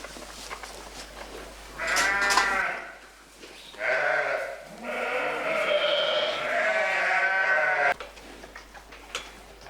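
Dairy ewes bleating at pasture, several drawn-out, wavering bleats from more than one animal, fairly close, with quiet gaps between calls and no talk.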